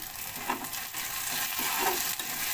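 Chopped onion frying in oil on a gas stove, the flame turned low so it browns slowly; a steady, moderately quiet crackling sizzle with faint stirring, no speech.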